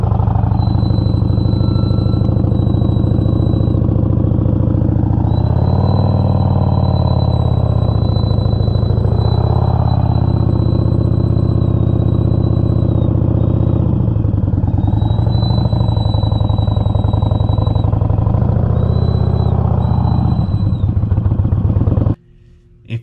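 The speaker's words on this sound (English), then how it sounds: "If your brakes squeal like that," Loud, continuous high-pitched brake squeal from a car, a steady whine holding for about twenty seconds over low mechanical rumble, cutting off abruptly near the end.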